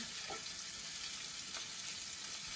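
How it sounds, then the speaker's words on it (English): Black bean burgers frying in a pan over medium heat, a steady soft sizzle and crackle running throughout with no voices. "I fry them on that medium heat for about 5 minutes per side"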